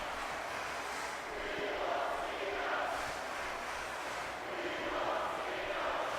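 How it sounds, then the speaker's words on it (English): Wrestling crowd at a WWE event chanting for Cena, a broad steady roar of many voices filling the arena with a rhythmic swell, loud and continuous throughout. "The crowd chanting, "We want Cena.""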